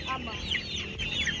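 Chickens bought at a market cluck in short, close bursts with high squawking notes, over a busy background murmur that includes faint voices.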